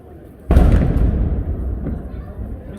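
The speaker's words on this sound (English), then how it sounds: "That cannon's still going off." A single deep cannon boom bursts out suddenly at an outdoor river festival and then rolls away slowly over a few seconds, with a faint rumbling tail.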